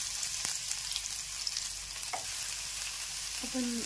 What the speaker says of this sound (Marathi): सर्वात आधी आपण अद्रक आणि लसूण क्रश केलं होतं ते टाकूया. मस्त त्याला फ्राय होऊ देऊ आपण.